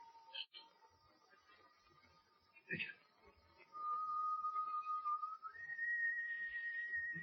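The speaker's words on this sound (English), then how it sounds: "Whoever's whistling is standing right outside on deck." On a clipper ship's deck in a radio drama, someone whistles a sustained tune, faint at first, then steadier and louder with long held notes, with brief voices in the background.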